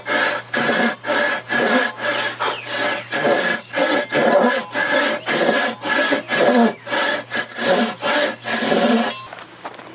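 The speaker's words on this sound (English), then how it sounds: "my goal is to get this saw and drop it down this line and cut this face right here" A Japanese ryoba saw cuts across wood in rhythmic back-and-forth strokes, about twenty close, rasping pulls with brief gaps between them, with no talk.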